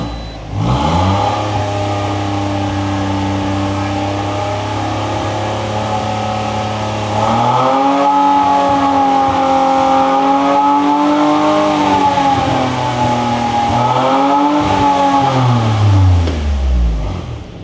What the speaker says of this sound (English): I'm going to give it a rev, and we're going to see what it's like under revs.